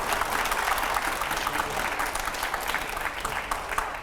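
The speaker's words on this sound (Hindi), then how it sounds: "एक बार पहले जोरदार तालियां मनोज जी के लिए।" Studio audience applauding for Manoj Tiwari during a TV interview show, a dense, steady burst of clapping that holds at full strength for about four seconds, with no voices over it.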